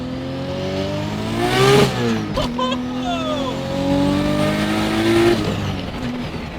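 A 1200hp turbocharged BMW E36 M3 sleeper with a 4-inch dump pipe straight off the turbo pulls hard through the gears, a loud close engine roar climbing in pitch, dropping at shifts, then climbing again, with a voice talking over it.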